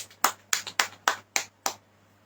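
A congregation claps during a church worship service, about seven sharp, evenly spaced claps close by, then quiet; no talk.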